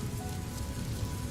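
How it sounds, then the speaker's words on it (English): Rain patters on a surface in a dense, continuous wash of drops, fairly close and steady. A low rumble sits underneath, and no one speaks. "the pitter-patter of rain"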